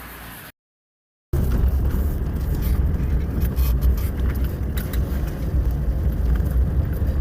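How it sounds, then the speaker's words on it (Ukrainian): Inside a car driving over rough steppe tracks through gullies and tree belts: a steady low engine and road rumble with faint rattles, cut by a brief silent gap near the start, and no talking. "Степами, балками, посадками їдемо сьогодні по добрива"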